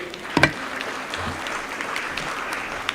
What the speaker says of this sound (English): Another round of applause for them, tafadhali.